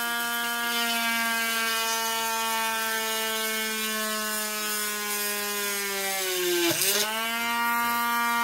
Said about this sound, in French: Vous allez prendre votre Dremel. On l'allume, ça fait du bruit. Et on vient percer au milieu du renfort.